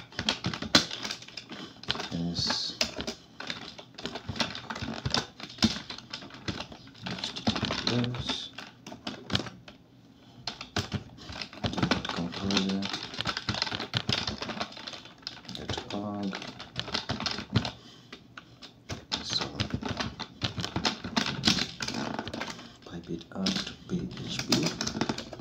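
Someone types a terminal command on a computer keyboard in Kali Linux, with steady runs of close keystroke clicks and brief pauses over about 25 seconds, under continuous spoken narration.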